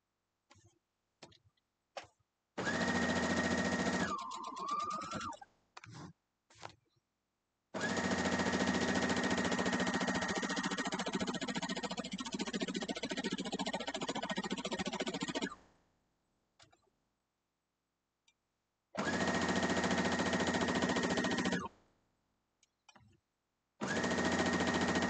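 A sewing machine stitches a quilt block in several steady runs of a few seconds each, separated by silences and small clicks, the motor whirring close and even.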